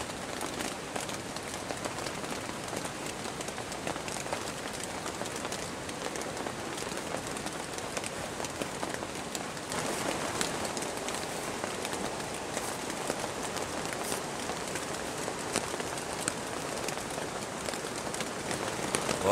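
Steady rain pattering on the canvas of a tipi during a bushcraft bivouac in the woods, a dense, continuous hiss that grows slightly heavier partway through, with no voices.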